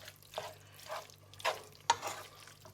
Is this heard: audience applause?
no